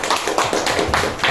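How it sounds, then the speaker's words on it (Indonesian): A primary school class claps for group 4 in a classroom, a quick run of loud, close, rhythmic claps filling the whole moment. "tepuk tangan untuk kelompok 4"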